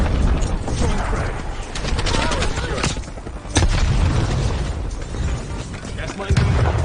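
A frag grenade blast and gunfire ring out in Call of Duty: Black Ops Cold War. The dense, loud battle noise carries heavy booms and bursts of shots, and a voice talks over it.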